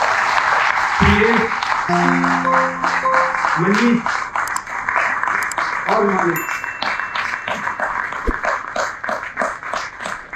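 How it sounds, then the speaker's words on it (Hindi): Audience applause at a live stage play performance, a steady wash of clapping running throughout while someone speaks over it, with a few brief tonal chimes. "प्लीज तालियां बजती रहे।"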